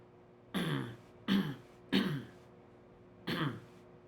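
Four short, throaty throat-clearing bursts, each under a second, spaced unevenly in a quiet room with no talking.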